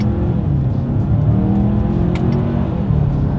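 A 2022 Hyundai Santa Fe with a wet dual-clutch transmission pulls away in first gear on paddle shifters, engine note climbing in a loud, steady drone heard from inside the cabin.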